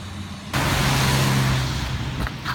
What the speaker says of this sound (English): So here's your traffic jam.